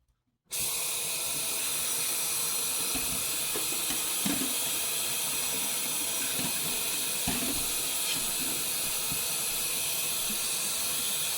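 Fresh pinto beans being drained in a kitchen sink, a steady rushing wash of water running for about eleven seconds after a sudden start, with a few faint knocks and clunks in the background.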